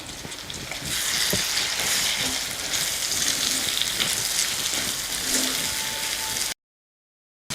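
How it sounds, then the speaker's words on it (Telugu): Tomato and capsicum pieces frying in a pan for egg fried rice, giving a steady, close hiss and sizzle with faint stirring scrapes, running continuously before cutting off abruptly. "టమాటో క్యాప్సికమ్ ముక్కలు వేగాయి"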